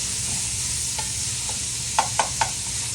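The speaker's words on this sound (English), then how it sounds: "So we're going to let this caramelize." Onions with sugar caramelizing in a pan for French onion soup, a steady close sizzle broken by a few soft stirring scrapes near the end, with no talking.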